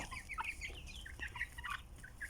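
Several hens, including Plymouth Rock chickens, cluck and chatter softly in the background, a scattered flock of overlapping calls heard from a distance.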